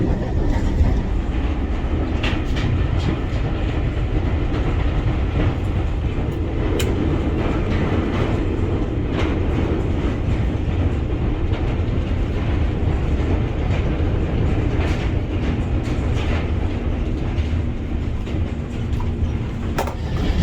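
A train running through a tunnel rumbles steadily with a low, continuous roar and faint rhythmic clatter, the sound heavy and enclosed throughout.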